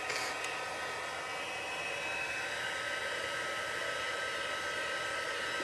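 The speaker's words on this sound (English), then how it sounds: "I am going to bring over my heat tool just to dry" A heat tool blows steadily to dry stamped ink on vellum, a constant close whooshing hiss of hot air that runs unbroken throughout with no talking.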